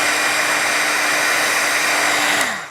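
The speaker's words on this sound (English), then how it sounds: "I'm just going to hit this with my heat tool just to make sure that ink is completely dry." Handheld heat tool blowing hot air to dry stamped ink on paper, a loud steady close-up whooshing hum that runs continuously and then winds down as it switches off.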